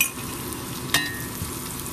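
Anchovies sauté in hot peanut oil with a steady, close sizzle and crackle, broken once by a brief clink of a utensil against the pan.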